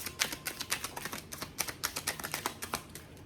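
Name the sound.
shuffling tarot cards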